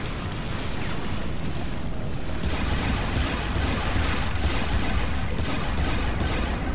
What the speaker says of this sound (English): I shot his hand and killed him.